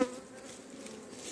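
Honey bees buzz in and around hive frames, a steady dense drone that holds close and even through the whole short stretch, with no voices.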